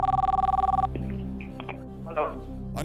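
An outgoing telephone call rings on a quiz-show set, one steady electronic ring tone pulsing at the start before cutting off, followed by faint clicks and a short voice.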